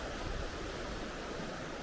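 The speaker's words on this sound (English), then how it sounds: "it's quite wide the day, so there's a lot of water running." A wide, full river running high, heard as a steady, faint broadband rush of flowing water, constant and unbroken with no voices.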